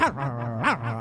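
A man imitates a dog barking loudly, mimicking a clever dog in a fight: two sharp voiced yelping barks with tonal whine between them, close and alone.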